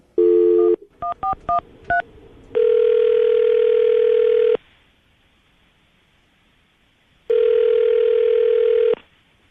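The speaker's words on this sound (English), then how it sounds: "I'm going to dial the phone number right now" A brief tone, then a quick run of dialing beeps, followed by two long steady ringback tones separated by silence.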